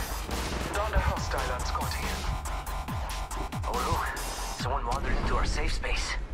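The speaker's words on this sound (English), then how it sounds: "I feel like someone is shooting at me." Gunfire in the mobile battle royale Apex Legends Mobile, a series of sharp shots scattered through the clip under game music and character voice lines, with voices talking over it.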